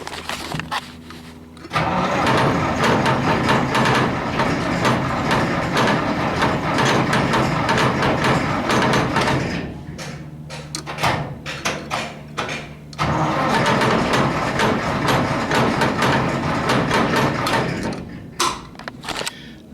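A 70-year-old John Deere combine engine cranks and catches, then runs loud and steady close by, cutting out briefly and restarting with a rough, uneven idle.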